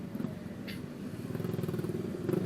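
A motorcycle engine putters and burbles steadily nearby through a loud exhaust, its rough exhaust pulsing in a fast rhythm that swells slightly toward the end.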